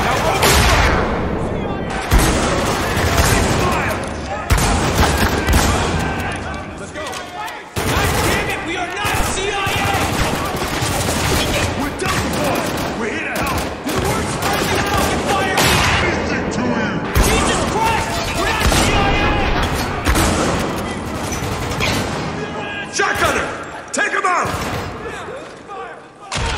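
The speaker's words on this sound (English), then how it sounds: "Now open fire!" Intense gunfire from the video game Spec Ops: The Line, with dense bursts of automatic fire, heavy impacts and crashes that keep up almost without a break, while shouted voices come through at times.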